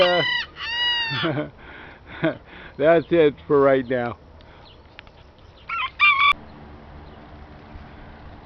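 Several large roosters crow in repeated loud bursts close by on a farm, with giant hens clucking between calls, and someone speaks briefly near the end.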